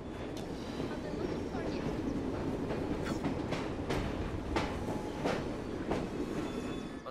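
A moving train in the video game Assassin's Creed Syndicate rolls along with a steady rumble and a run of rhythmic wheel clacks over the track, heard continuously at moderate volume.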